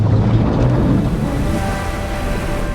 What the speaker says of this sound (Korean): 하지만 파도가 세도 너무 세서 조종이 마음처럼 되지 않습니다